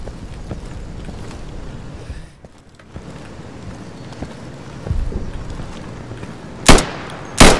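Two sharp, loud gunshots from the tactical shooter Insurgency crack close together near the end, following several seconds of steady in-game ambience and distant thuds.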